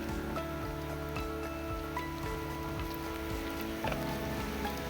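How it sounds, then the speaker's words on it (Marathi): Sudden heavy rain falls in a steady, dense hiss that stays loud and even from start to finish, with no pauses and no talking. "खूप वाढला अचानकच पाऊस."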